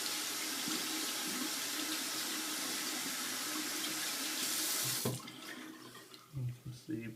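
Tap water running steadily over a shaving brush as it is rinsed at a sink, then cutting off, followed by a few close wet shakes and drips.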